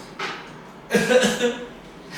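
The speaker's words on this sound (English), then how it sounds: "Why do you cough and moan" A single short cough up close, followed by a breathy sound, with some background murmur.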